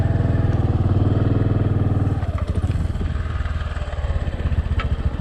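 A motorcycle engine runs close by on a road near Pussellawa, a steady throbbing idle that turns rougher and more uneven partway through while the bike is turned around, with a little clatter and no talk.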